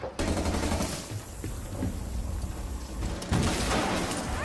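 Rapid gunfire in a shooting video game, repeated bursts of shots running through the whole stretch with a brief lull, loud and close under occasional talk.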